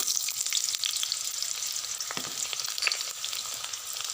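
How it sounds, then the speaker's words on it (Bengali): Potatoes fry in hot mustard oil with a dense, continuous hissing sizzle and scattered crackles. It is close and moderately quiet, and no voices are heard. "আমি আলুটা ভালো করে লাল লাল করে ভেজে নেব।"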